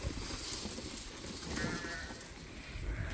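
Rams on a sheep farm, recovering from a heavy worm load and eating corn and barley, make a busy, continuous livestock din with scattered bleats mixed in through the whole stretch.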